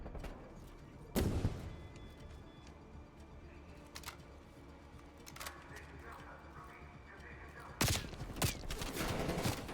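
Gunfire in a Call of Duty match, heard as two loud broadband bursts of shots, one early and one near the end, over steady game noise with scattered fainter pops.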